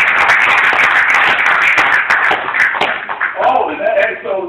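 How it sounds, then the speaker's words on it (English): An audience at a commemoration event for Dr. Frances Cress Welsing in Buffalo claps in a loud, busy round of applause, with sharp individual hand claps throughout before it thins out near the end. "Another big round of applause for the light."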